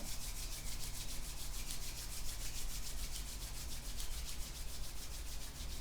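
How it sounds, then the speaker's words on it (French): Palms rub briskly together during a fire element yoga session, giving a continuous, rhythmic whooshing friction that stays close and steady throughout. "rub the hands together"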